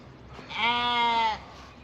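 A single clear, wavering bleat rises from a sheep on a dry lot with ewes and a baby lamb, moderately close and lasting about a second over quiet background.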